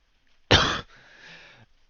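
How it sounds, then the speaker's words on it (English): A single harsh cough bursts out close to the microphone, followed by a short breathy exhale trailing off into silence. "hold on, I'm gonna cough."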